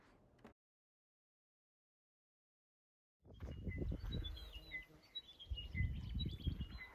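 Birds call by a full river pool on the Murchison River in inland Australia, several chirps and short whistled notes over low rumbling background noise after a silent gap.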